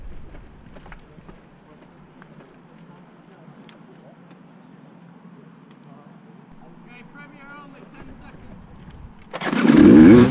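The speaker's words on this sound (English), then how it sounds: "as soon as this green flag gets on the way, we can start our bikes and get going." Off-road enduro motorcycles fire up at a race start in a quarry: after a stretch of low ambient murmur and faint sounds, a loud engine roar bursts in abruptly during the final second and holds.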